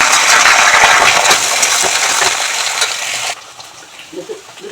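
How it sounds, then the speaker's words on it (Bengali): Taro stolons dropped into hot oil tempered with nigella seeds in a wok, a loud bright sizzle that roars for about three seconds, then cuts off to quiet clatter. "ও কড়াইয়ে তেল দিয়ে দিয়েছি, কালো জিরে ফোড়ন দিয়েছি, এবার এই কচুরলতিটা দিয়ে দেবো।"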